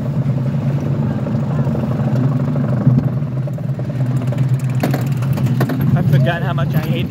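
A Wild Mouse roller coaster rumbles along its track, a steady loud mechanical drone and rattle heard from on board, with a rider's voice breaking in near the end.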